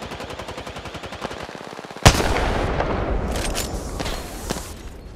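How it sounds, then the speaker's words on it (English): Gunfire in Apex Legends hits the player: rapid regular automatic shots, then a sharp loud impact and crack followed by a dense wash of crackling fire and scattered hits, close and intense, with no speech. "Getting shot at. I am taking fire, friends."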